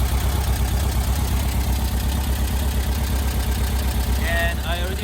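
A bus engine, freshly repaired after fire damage, idles steadily with a dense, even rumble and rapid low pulsing throughout. A short, high, voice-like tone rises over it near the end.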